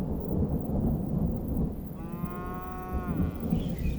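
A single low moo from grazing cattle in Botswana rises for about a second over steady rain-like background rumble outdoors.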